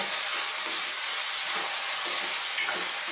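Tomatoes sauté with bottle gourd (upo) and chicken in a hot pan, giving a steady, dense frying sizzle with faint scraping from stirring and no voices.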